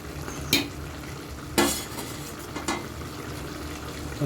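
Ginger garlic paste fries in hot oil in a pan, a steady close sizzle broken by three sharp scrapes of a spoon stirring it.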